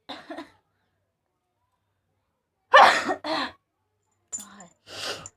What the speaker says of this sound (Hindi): मैं छींक आ रही है